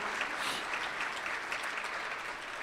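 An audience at a school sports awards ceremony claps, a dense, steady patter of applause from a crowd heard at moderate distance.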